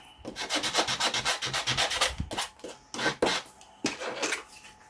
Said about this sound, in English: So I'm just going to sandpaper this off a little bit.